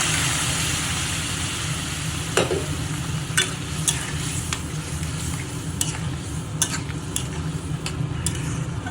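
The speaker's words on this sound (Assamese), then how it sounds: "অকণমান যাতে মছলাখিনি ভালদৰে মিক্স হৈ যায়" Boiled rajma in masala is stirred in a cooking pot over a steady background sizzle, with several scattered scraping knocks of the spoon against the pot, close and clear.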